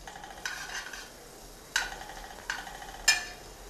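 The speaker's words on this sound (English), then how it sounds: "Give it a little stir." Butter melting over very low heat in a pan for caramel syrup, stirred with a utensil: four separate scraping sweeps against the metal over a faint sizzle, close and fairly clear, no voices.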